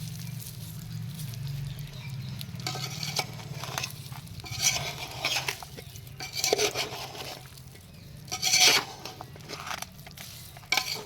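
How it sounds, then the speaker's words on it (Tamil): Tempering spices are stirred into lemon pickle, with wet patters, scrapes and spoon strokes against the vessel coming in close, uneven bursts over a low steady hum. "இப்போ வந்து தாளிப்பு நம்ம அப்படியே பெரட்டணும்"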